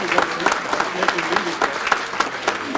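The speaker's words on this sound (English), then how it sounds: "Can I get a round of applause for all the staff at Seekonk Speedway for all their work?" An awards banquet crowd claps steadily for racetrack staff, a moderately loud, even patter of many hands with no talk over it.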